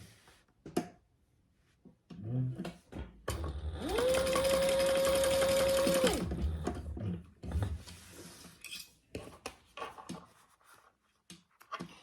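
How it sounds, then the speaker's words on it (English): Sewing machine basting bag pieces in place, one steady two-second run of rapid stitching, framed by clicks and handling noises from fabric and the machine. "I marked it and we're just going to baste those in place"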